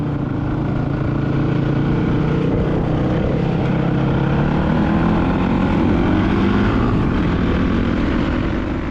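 Motorcycle engines roar on a Baja desert ride just after a chain repair, a loud, steady, continuous drone with a slowly rising pitch and no talking.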